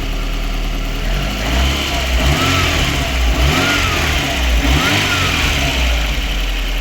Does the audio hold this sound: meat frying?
no